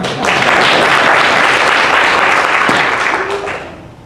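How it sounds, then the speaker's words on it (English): An audience at a hate crimes forum held by the Hamtramck NAACP applauds loudly, dense clapping swelling quickly and then tapering off near the end. "yes, you can applaud that"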